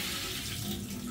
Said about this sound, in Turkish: soğuk suda pirinçlerimi dikkatli bir şekilde kırmadan güzelce önce bir yıkıyorum